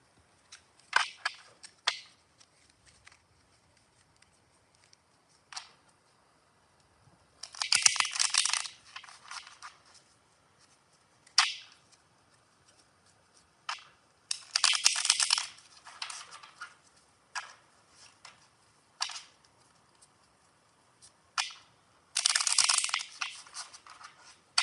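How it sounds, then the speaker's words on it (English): Tarot cards being shuffled by hand, heard as a few separate bursts of dry riffling and flapping card noise with quieter handling clicks between them, close and fairly faint, with no talk. "So we'll put these back and shuffle so that you guys have room to see what comes up."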